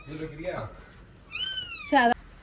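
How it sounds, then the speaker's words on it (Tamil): A small kitten meows a few times from a car bonnet, thin and high-pitched, close by, with quiet background noise between the cries. "காலையில் எந்திரிச்ச நேரத்துலேருந்து இந்த சத்தம் கேட்டுக்கிட்டே இந்த பூனைக்குள்ளது"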